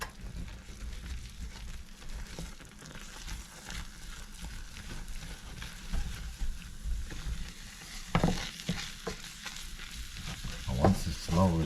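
Flour is stirred into a pan for cheese puffs, with soft, continuous scraping and stirring at low level that grows into a few louder scrapes near the end.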